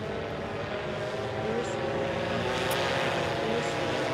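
Steady drone of a propeller airplane engine in flight, a continuous even hum heard from inside or nearby, with no talking.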